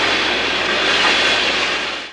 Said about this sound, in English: F-45 number 5961 leads a westbound at Edelstein